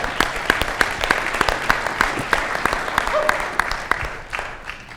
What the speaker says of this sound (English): Come on, round of applause for that.